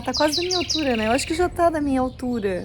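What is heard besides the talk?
canary singing in a garden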